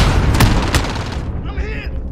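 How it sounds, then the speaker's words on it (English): Explosion from an incoming allied cruise missile in the Call of Duty Modern Warfare video game, heard as a dense barrage of loud booms and blasts mixed with battle noise and voices, fading into a quieter rumble near the end. "Allied cruise missile on the way."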